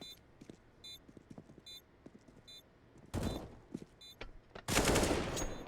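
Counter-Strike gunfire during a DreamHack Masters match between Astralis and Complexity: faint scattered shots and clicks, then two loud close bursts of rapid automatic fire.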